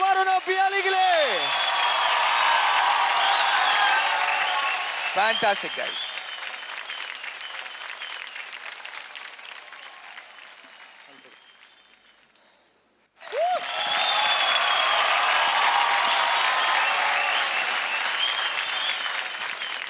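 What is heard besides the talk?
audience applause for dancers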